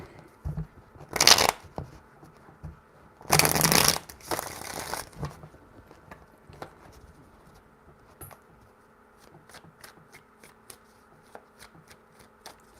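A deck of tarot cards is shuffled by hand in a few quick riffling bursts, near and crisp, followed by light scattered taps and card handling in an otherwise quiet room.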